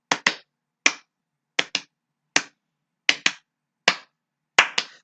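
Sharp hand claps ring out alone in a steady rhythm, mostly in quick pairs with short silent gaps between, close and crisp with no talk.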